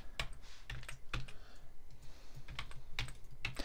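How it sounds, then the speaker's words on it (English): Computer keyboard keys tapped in short irregular bursts of clicks, close and fairly crisp, with brief pauses between strokes and no talking. "let's take the T key and let's type in light burst"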